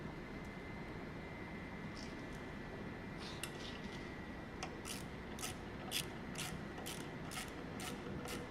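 Close by, bolts are run down by hand with a small ratchet: a quiet, quick, rhythmic run of clicks comes in repeated bursts over a constant low hum.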